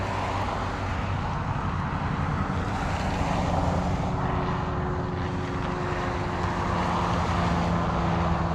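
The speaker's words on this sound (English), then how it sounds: "Looks like that plane's gonna be doing touch and goes." A propeller airplane flying low overhead near an air museum as it does touch-and-go landings, a steady loud engine drone holding for the whole stretch with a broad rumbling noise and no talk.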